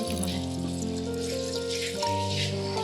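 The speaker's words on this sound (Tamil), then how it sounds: "இப்போ தண்ணி ஊற்றிக்கலாம்." Water poured into a cooking pot while making ghee rice, a steady close trickle running for about three seconds beneath an underlying tonal hum.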